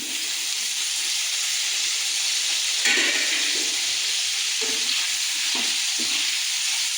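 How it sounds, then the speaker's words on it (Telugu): Washed mushrooms being dropped into hot oil in a kadai, producing a loud, dense sizzle that flares sharply midway as they hit the oil and then settles into steady frying with a few light knocks. "దీంట్లో మనం ఇందాక వాష్ చేసి పెట్టుకున్న మష్రూమ్ వేసుకొని మూత పెట్టేసుకోండి"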